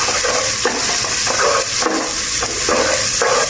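Chopped carrots sizzle loudly in an oiled pan while being mixed for egg fried rice, a dense close-up frying hiss broken by regular scraping strokes of a spatula, with no talking.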